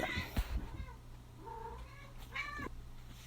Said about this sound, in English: sorry about the cats.